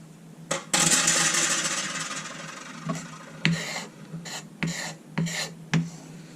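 A citrus peel is zested on a grater close by: one long rasping scrape, then several short, sharp scraping strokes with brief pauses between them.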